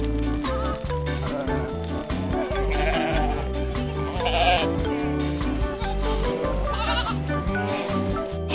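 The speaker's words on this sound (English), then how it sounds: "Hey, I am a sheep, sheep." A sheep bleats over a bouncy children's song with a steady beat, the animal calls repeating against the music.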